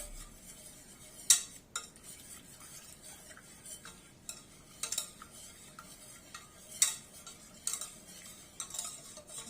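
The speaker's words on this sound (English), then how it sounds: "while it's still hot, we're going to add about 80 grams of dark baking chocolate. We stir it until it's melted." A spoon stirs dark baking chocolate melting into a hot brownie mixture in a pan, producing soft scraping with scattered sharper clinks of utensil against the pan and a faint sizzle underneath, quiet and with no talk.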